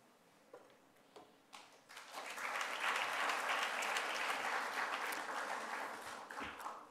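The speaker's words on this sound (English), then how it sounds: "You already have applauded." An audience at a conference on data and border security breaks into sustained applause, starting with a few scattered claps and swelling into a dense, steady clapping that lasts several seconds.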